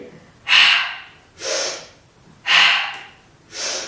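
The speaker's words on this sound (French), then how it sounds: "Inspire, expire." Deep breathing during a Pilates exercise, four slow alternating breaths in and out, close and airy, each swelling and fading with short pauses between.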